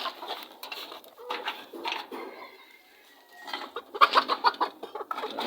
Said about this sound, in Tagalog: Tapos may mga bibi pa.